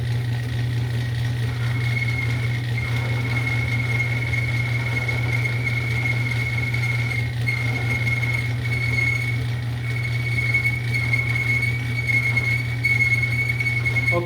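A lathe cutting wheel shaping a custom harp button gives a steady mechanical hum with a thin, constant whine riding above it, unbroken and moderately close for the whole stretch.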